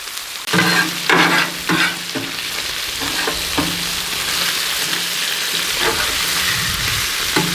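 An elk burger, a whiskey burger cooked inside a silicone egg ring, sizzles on a Blackstone griddle with a steady close hiss, with a few scraping knocks early on.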